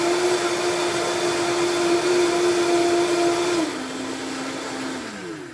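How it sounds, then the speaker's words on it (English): A Vitamix blender runs at high speed with a loud, steady motor whine that drops in pitch partway through and winds down near the end. Heard alone, without talk. "I'd actually say the Vitamix is a little quieter"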